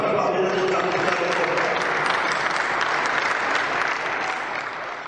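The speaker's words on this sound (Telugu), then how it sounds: "అందరూ కూడా చప్పట్లతో అభినందించారు" Sustained applause from an audience at the inauguration of a new Kendriya Vidyalaya school building in Nizamabad, a dense steady clapping that fills the whole stretch and fades slightly at the end, with no talk over it.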